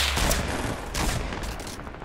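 Dense rapid gunfire crackles through a Fortnite Battle Royale match, a loud continuous burst of overlapping shots with brief surges, without talking.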